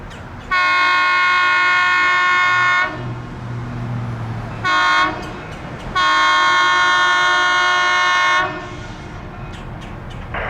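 A Florida Northern Railroad high-hood GP18 locomotive sounds its horn in two long loud blasts with a short toot between, over the low rumble of the passing train near an old station.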